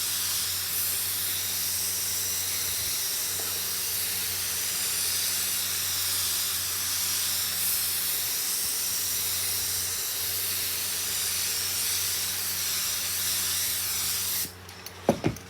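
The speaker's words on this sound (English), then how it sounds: "Same thing, a little bit of tack. I'll have him tape that one. I'm putting another coat on that one." A paint spray gun lays a coat of candy paint over metalflake on a lowrider panel, a loud continuous close hiss that runs steadily for about fifteen seconds before clattering handling noises at the end.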